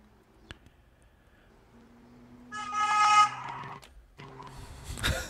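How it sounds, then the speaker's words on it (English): A car horn toots amid traffic noise as a vehicle draws near and passes close by, getting louder toward the end. "that car got pretty close."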